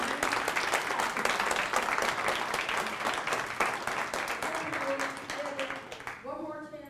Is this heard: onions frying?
no